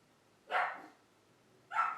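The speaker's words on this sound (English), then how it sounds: "My dog just started barking." A dog barks twice indoors, two short sharp barks about a second apart, moderately near against a quiet background.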